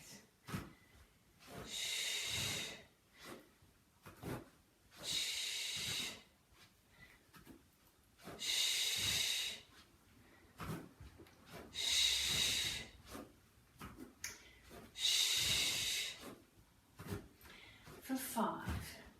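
Steady rhythmic breathing during a chair pilates workout, with loud close breathy exhales about every three seconds, each followed by quieter inhales, continuing through the whole stretch.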